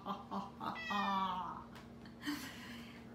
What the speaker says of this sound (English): He's a little spooky cat.